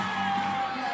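Softball crowd at a Mississippi State vs Texas A&M game roaring after a game-tying hit, a dense sustained wash of cheers and whoops with a commentator's voice over it.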